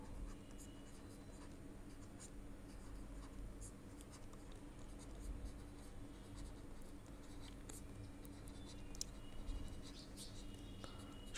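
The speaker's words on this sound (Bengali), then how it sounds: "আচ্ছা, তাহলে লিখি" Pen scratching across paper in quiet, continuous strokes, faint and close, with light irregular scribbles and no talking.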